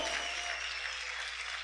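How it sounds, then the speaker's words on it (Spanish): A church congregation clapping together during worship, a dense, soft wash of many hands heard at a distance, steady and without a clear beat. "aplaude, aplaude fuerte al Señor"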